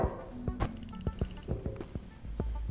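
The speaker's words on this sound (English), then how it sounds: "Well, I gotta shut off the alarm." An alarm going off, a repeating electronic beep pattern with a steady high tone, accompanied by a rapid sequence of clicks or taps nearby, with no talking.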